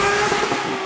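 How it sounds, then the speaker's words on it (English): Porsche 911 GT3 Speedster convertible revving toward 9000 rpm, its engine mounted just behind the cabin, giving a loud, steady, dense mechanical roar through a brief burst with no speech. "the engine is right over behind your ears. So you can hear every last bit of the 9000 RPM."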